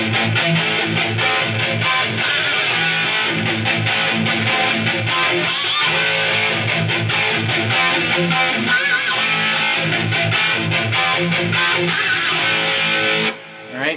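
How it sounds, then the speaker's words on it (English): An electric guitar plays pinch harmonics picked across two strings at once, giving bright, distorted, squealing overtones. The notes ring in a dense, sustained run and stop abruptly at the end. "you can try and do a harmonic on both strings"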